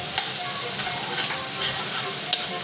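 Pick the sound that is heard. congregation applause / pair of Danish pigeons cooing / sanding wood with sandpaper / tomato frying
tomato frying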